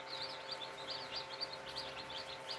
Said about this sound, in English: All of these little chirps and peeps, the cute little noises they're making.